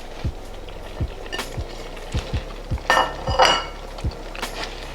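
Spoon clinking against a pot while stirring spinach into a cream cheese pasta dip, a run of sharp metallic taps and scrapes at an uneven rhythm, close and clear with no voices.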